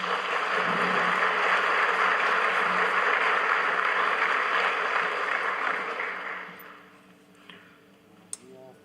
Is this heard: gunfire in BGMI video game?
no